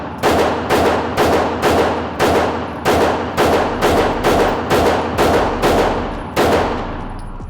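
Rapid fire from a Taurus TX9 pistol at the range, roughly a dozen loud sharp shots in quick, fairly even succession, each with a short ringing tail.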